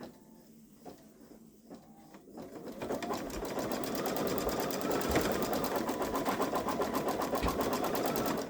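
A Baby Lock Solaris embroidery machine stitches a design, first with a few separate clicks and whirs, then with a loud, fast, rhythmic needle chatter heard up close until it stops at the end.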